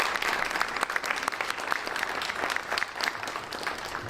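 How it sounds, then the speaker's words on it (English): A conference audience applauds the mayor of Santa Clara, a steady, moderately distant crowd clapping with distinct individual claps throughout. "please help me give me a nice round of applause for Mayor"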